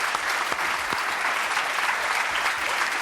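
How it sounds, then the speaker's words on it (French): A theatre audience claps steadily and densely for a violin trio playing traditional Limousin music, the applause filling the whole stretch at even strength with no voices breaking through. "on peut même les applaudir un petit peu, je pense"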